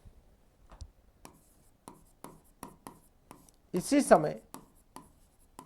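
Chalk or marker strokes tap and scrape across a board during a history lecture, a steady run of short, faint marks while the lecturer speaks.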